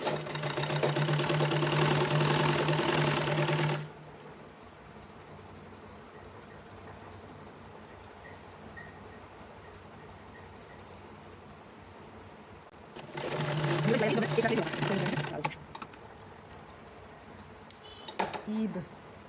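A sewing machine stitches a child's kurta in two bursts of steady, rapid whirring, close and fairly loud, with a quiet stretch between them and a few short clicks and stutters near the end.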